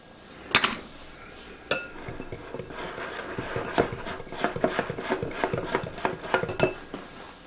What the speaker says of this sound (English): In the medium bowl, add your flour, baking soda, baking powder, and salt, and whisk them together.